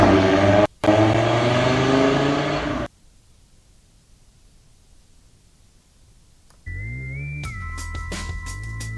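A tuned 600-horsepower RS3's engine roars loudly for a few seconds and cuts out. After a quiet pause, a steady engine drone and rising whine return.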